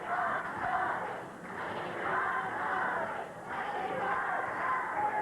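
Wrestling crowd at a 1981 Portland Wrestling match, Tony Borne vs. Chris Colt, chanting in rising and falling waves of massed voices, fairly distant and slightly muffled, repeating roughly every two seconds.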